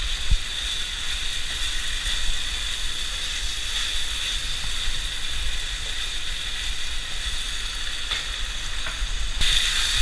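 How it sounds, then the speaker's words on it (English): Meat frying in a pan for homemade spaghetti, a steady dense sizzle with crackling that holds evenly at close range for the whole stretch, with no talk over it. "hear that sizzle? That means our meat is cooking."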